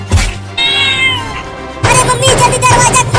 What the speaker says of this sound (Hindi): अरे बचाओ रे कोई मुझे इस बिल्ली से